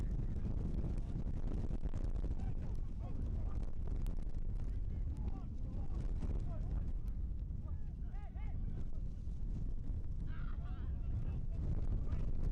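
Wind gusting across an outdoor stadium during a professional soccer match, a steady loud rumble buffeting the microphone throughout, with faint crowd and field sounds underneath.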